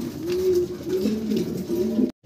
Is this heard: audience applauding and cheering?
no